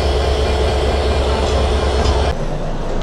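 Banalata Express, a non-stop Dhaka to Rajshahi train, rumbles steadily and loudly along the rails with a dense, continuous roar that drops abruptly to a quieter level near the end.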